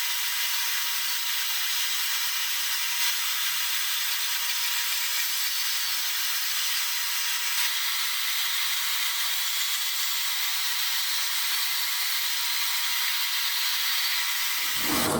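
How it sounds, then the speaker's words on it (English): A portable bandsaw cuts steadily in a workshop, giving a continuous, even, hissing whine that holds for about fifteen seconds without a break before it stops abruptly. "take this portable bandsaw and use it elsewhere and not on the table"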